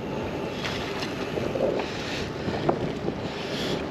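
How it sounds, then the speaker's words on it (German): Steady wind rushes and buffets over the microphone while riding a gravel bike along a river cycle path, a constant broad roar with slight gusts and no talking. "So, der Wind hat jetzt ein bisschen zugenommen, aber alles noch im erträglichen Rahmen."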